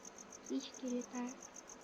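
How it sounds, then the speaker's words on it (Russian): Grasshoppers chirp in the S.T.A.L.K.E.R. video game, a steady high-pitched pulsing trill repeating evenly throughout, with a few faint low tones passing underneath. "Кузнечики жужжат."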